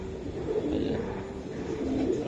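A racing pigeon bred from a foreign bird coos steadily up close, its low, rolling murmur continuing without pause over a faint background hum.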